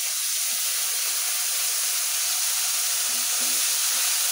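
Soy sauce poured onto fried chicken pieces in a hot pan gives a loud, steady hiss and sizzle that holds evenly throughout, with a few soft low knocks near the end and no talk.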